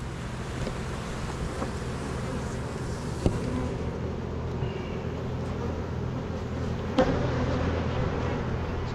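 Honeybees on almond pollination hive frames give a steady, dense low hum, close and continuous, with a few faint knocks from the frames handled outdoors.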